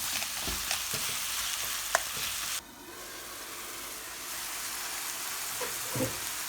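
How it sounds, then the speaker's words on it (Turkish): Steady sizzling and frying of vegetables for karnıyarık in a pan, with occasional stirring scrapes and clinks; the hiss drops slightly partway through and continues. "Şimdi burada harmanlaya harmanlaya da iyice bunları kavuruyoruz. Kızartmaya bırakıyoruz."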